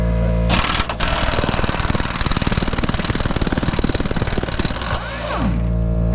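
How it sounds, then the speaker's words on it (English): A power wire brush grinds loudly against a Dakota truck frame, a close, harsh buzzing rattle that runs steadily for several seconds, then cuts off and winds down. "we'll start wire brushing this back portion here"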